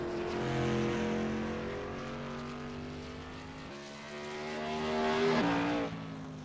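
Modified race car at full throttle on a speedway qualifying lap, engine note climbing steadily through a gear change then rising again as it crosses the start-finish line, loud and alone.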